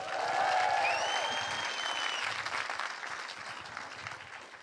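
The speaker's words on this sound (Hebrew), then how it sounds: "הרבה כפיים ליותם רוזנטל." Live audience applause for Yotam Rosenthal at a podcast reading: warm crowd clapping with a few whoops and whistles at the start, then the clapping thins and fades gradually.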